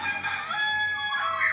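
Rooster crows among ornamental chickens kept at a bird dealer's stock area, a loud drawn-out close call with other fowl clucking faintly around it.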